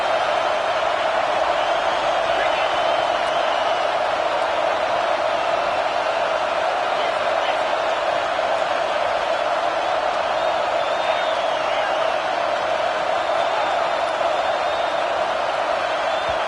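A dense, steady roar of a large college football stadium crowd, loud and continuous throughout with no pauses, a broad wall of noise.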